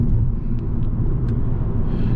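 A 2020 Fiat Egea diesel sedan cruising in fifth gear around 2000 rpm near 90 km/h, heard from the cabin as a steady low engine and road rumble with faint ticks above it.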